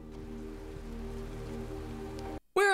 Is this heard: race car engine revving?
no